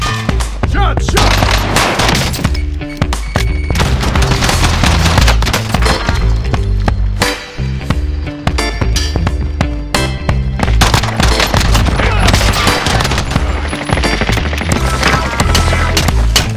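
Video game gunfire roars almost without pause, with loud rapid bursts and overlapping shots forming a dense, continuous barrage.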